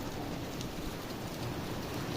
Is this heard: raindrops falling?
yes